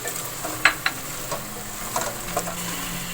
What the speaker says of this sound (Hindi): ये मैं अपना भून रही हूँ।